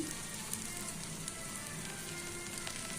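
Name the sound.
beaten egg spread around a hot pan, sizzling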